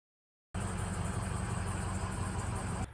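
Steady engine hum of a pickup truck running, starting abruptly after a brief silence and holding an even, moderately loud drone with no talking.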